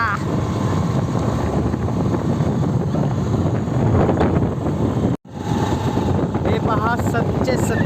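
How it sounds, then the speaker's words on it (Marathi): Strong wind buffets the microphone while travelling along a village road, a loud, continuous low roar with a brief dropout midway and faint voices buried beneath it. "वाराचा आवाज एवढा येतोय की काय बोललेलं ते पण सांगू जाणार नाही खूप वारा सुटला आहे"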